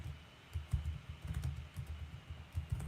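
Keys clatter on a computer keyboard in an uneven run of soft, close taps and clicks over a low background hum, with no voices.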